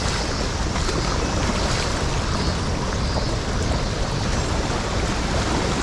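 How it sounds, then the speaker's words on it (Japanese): Swollen mountain stream in flood, its rushing water roaring as a loud, steady broadband wash with no breaks, close by and alone without speech. "やべ、もう完全に増水しとるやん。"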